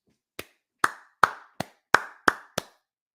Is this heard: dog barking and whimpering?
no